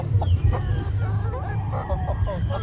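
Heritage chickens cluck and chatter close by in short, repeated bursts, with a low background hum and a person talking under the birds.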